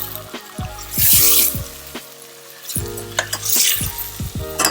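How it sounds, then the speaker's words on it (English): Chicken curry seasoned with salt and pepper sizzles loudly in a hot pan while a utensil scrapes and stirs it in uneven strokes, two strong bursts of frying hiss rising and falling, no voices. "Alright, so I'm turning the heat up a little bit so it can start to sizzle."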